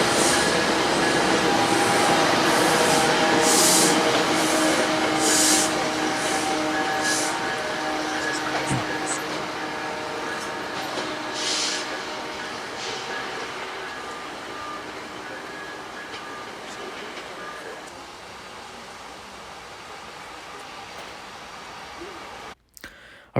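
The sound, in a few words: CSX Dash 8 freight train locomotive passing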